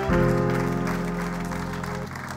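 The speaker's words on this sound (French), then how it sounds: "Oui, oui, acclame bien, acclame bien" A church congregation claps and cheers in sustained applause with a voice speaking over it, the noise holding steady and gradually tapering off.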